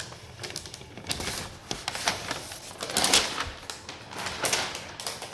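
Protective paper being peeled off a new MacBook Pro M4 Pro during unboxing: a run of crisp crackling and tearing rustles, close and fairly quiet, swelling and fading in bursts.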